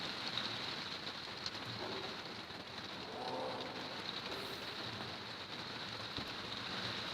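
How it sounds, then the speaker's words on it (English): Heavy rain pours steadily, a dense, loud, continuous wash of drops drumming on surfaces with no break and no voices. "the rain is getting really loud"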